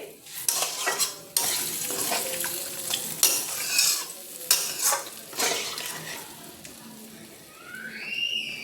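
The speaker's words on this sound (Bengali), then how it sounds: "দিয়ে এবার আমি জল মশলা ডাঁটা পুরো এর সাথে মিশিয়ে নেবো ভালোভাবে" Water, spices and drumsticks stirred together into a dhaba-style drumstick curry in a pan, with repeated scraping and clinking strokes of a spoon against metal over a soft simmering sizzle.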